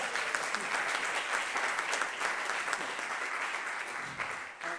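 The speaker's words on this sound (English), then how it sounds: "Applause." Audience applause fills a music showcase at the Rijnlands Lyceum, a steady dense clapping that holds for several seconds before tapering slightly at the end.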